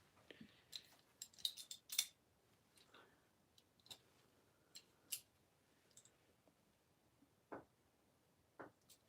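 Quiet, scattered snips and clicks as scissors or cutters work through a wire for elevator part wiring, with short bursts and gaps between cuts; no talking.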